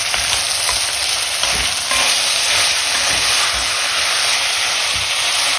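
Minced beef for ragu browns over high heat in a pan for lasagna, giving a loud, close, continuous sizzle and crackle with faint stirring scrapes throughout.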